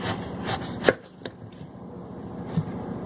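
A knife chops through the ends of a pummelo fruit on a cutting board, giving a few crisp, close thuds with quiet pauses between them.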